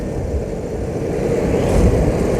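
A Vespa Matic scooter engine hums steadily while riding along a road behind a sugarcane truck, a low buzzing drone with wind noise that swells slightly toward the end, no talk.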